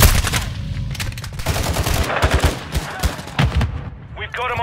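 Heavy gunfire in a hardcore Team Deathmatch round of Call of Duty Modern Warfare 2, with dense, loud bursts of automatic shots and single cracks firing rapidly and almost continuously throughout.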